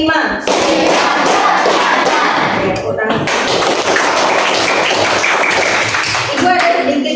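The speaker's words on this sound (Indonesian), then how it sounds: "Tepuk 1, tepuk 2, tepuk 3, tepuk 4, tepuk 5." A group claps in a counted rhythm during a children's coding and artificial intelligence class, a steady loud stream of claps running under a voice that talks and counts throughout.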